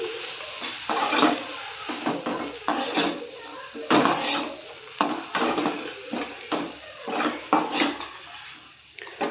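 Shredded cabbage and egg podimas stirred in a pan, a spatula scraping and clattering against the metal in repeated close strokes, fairly loud, with a faint voice in the background.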